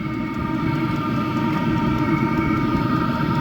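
A Vevor diesel heater running after start-up, before its muffler is fitted: a steady, fairly loud roaring rumble with a constant mechanical drone and faint higher tones, continuous and without talk.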